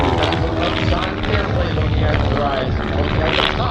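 A Long-EZ aircraft's engine during a looping airshow routine at Abbotsford: a loud, continuous, rough propeller drone with a slowly shifting pitch, and a commentator's voice talking over it.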